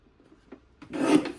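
Card stock for handmade cards being cut on a paper trimmer, a short close rasping slide of the blade lasting about half a second after a faint tap.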